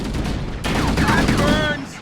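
Video game gunfire in Halo Combat Evolved Anniversary: a loud, dense burst of rapid shots with whizzing, streaking effects, continuous over about two seconds with no talk over it.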